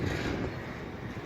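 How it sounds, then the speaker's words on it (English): The Pleasureland miniature railway train at Southport runs with a steady low rumble throughout, continuous and moderately close with no talking. "So this is the Pleasureland miniature railway."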